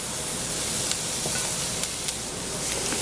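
Carrots, onions and garlic sauteing in a pan give a steady, dense sizzling hiss that holds evenly throughout, with a few faint ticks on top.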